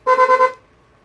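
A newly installed horn on a motorcycle gives one loud, close honk of about half a second with a slight pulsing wobble, then cuts off into quiet.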